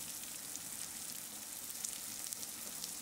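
Ground spices such as coriander, chilli and Kashmiri chilli powder fry in hot oil in a pan for a pointed gourd curry, giving a steady, close, even sizzle with no talking.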